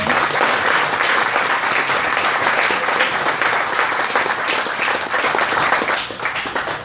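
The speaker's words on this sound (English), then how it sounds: "give a great big round of applause to the city" An audience at an industrial development forum gives sustained, loud applause for city staff, dense clapping from many hands that holds steady for several seconds before starting to thin at the end.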